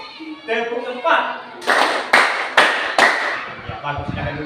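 A group of children clap four times in a crisp, evenly spaced series, loud and near, with spoken voices just before and after.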